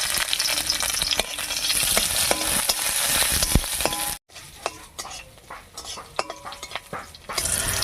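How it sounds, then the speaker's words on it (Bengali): Garlic and green chillies fry in hot mustard oil in a kadai, a loud continuous sizzle with stirring scrapes and metal clinks. The sound drops out briefly midway, then the sizzle and utensil noises return. "রসুন আর কাঁচা লঙ্কা ভাজা ভাজা হয়ে গেছে"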